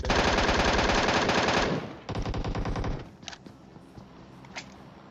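Rapid automatic Uzi fire in PUBG Mobile, a loud sustained burst for nearly two seconds, then a second shorter burst, followed by quieter scattered shots and game noise.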